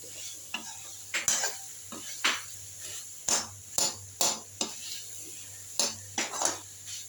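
Boiled taro (arbi) frying and being stirred with masala in a kadhai, with steady sizzling and repeated scraping strokes of a spoon against the pan at a close, even rhythm.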